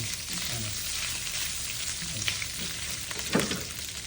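Meat sizzles and fries in a pan until golden brown, a steady close crackle with occasional stirring scrapes and pops, and no talk.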